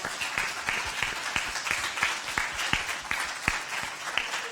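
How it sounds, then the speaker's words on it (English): Steady applause from a panel discussion audience, many hands clapping continuously at moderate volume with no voices over it. "Let's give our panelists another round of applause."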